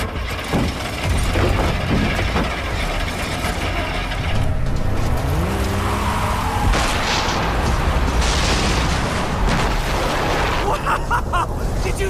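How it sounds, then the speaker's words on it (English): Far Cry 3 game audio with rumbling booms, mechanical clatter and vehicle noise, all dense and loud throughout, as an explosion erupts amid the gameplay. "Did you see that explosion? Something exploded!"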